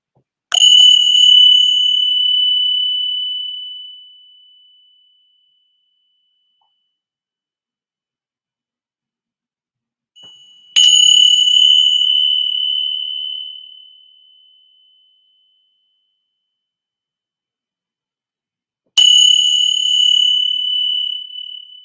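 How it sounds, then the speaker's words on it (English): Three clear, bright bell strikes spaced several seconds apart, each ringing out and slowly fading into silence. "focus on the sound of the bell as best as you can"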